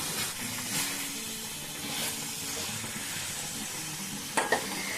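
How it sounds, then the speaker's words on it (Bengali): Fried cauliflower and potatoes being stirred together in a pan, a steady close sizzle with soft scraping, and a couple of sharper knocks near the end. "এগুলোকে খুব ভালো করে মিশিয়ে নেব।"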